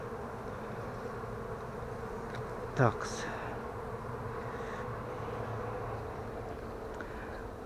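Honeybees buzz steadily throughout an opened hive during an inspection of weak swarm colonies, a continuous low drone with a brief louder passing buzz near the middle; a voice speaks briefly.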